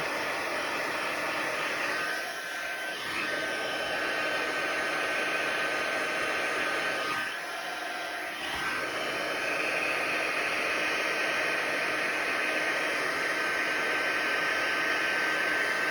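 Heat embossing tool blowing hot air onto embossing powder and ink on paper, a steady loud whooshing hiss that holds for the whole stretch and dips slightly twice, with no talking.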